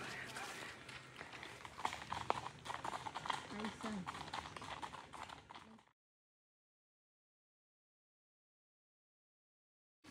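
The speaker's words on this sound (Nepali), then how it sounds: "घोडा चलाउने आयो।" Horse hooves clop rhythmically on hard ground close by, mixed with voices, for about six seconds before everything goes silent.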